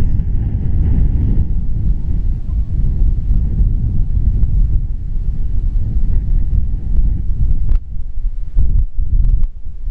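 Strong wind at Kumbara Beach in the Greek islands buffets the microphone in a continuous low rumble, with gusts swelling and easing throughout; no voices.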